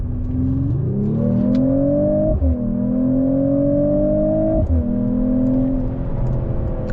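A Mercedes-AMG CLE 53 coupe with a six-cylinder engine pulling hard from inside the cabin, its engine note climbing steadily through each gear, with brief dips at two upshifts; loud and continuous, no talking.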